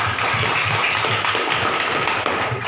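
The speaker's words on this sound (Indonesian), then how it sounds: "Tepuk tangan dulu untuk Juli." Classroom students clap their hands together in a quick, continuous burst that sounds close, busy and fairly loud, with no talking over it.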